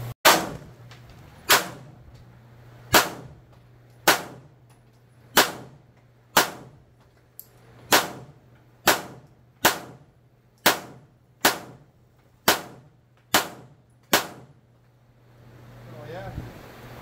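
Suppressed .22 LR pistol shots from an MPS-fitted pistol, a steady string of about fourteen sharp, fairly loud cracks roughly one per second, each with a short decaying tail, outdoors with faint wind noise after the last shot.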